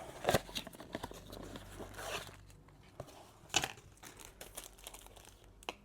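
Crinkling and tearing of packaging as a new oil filter for a VW T6 is unwrapped, close, with rustling bursts and a couple of sharper rips.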